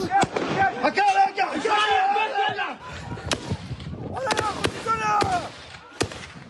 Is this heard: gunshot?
yes